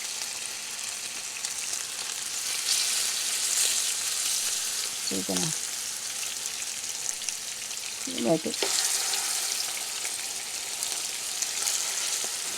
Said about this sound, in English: Because we are frying.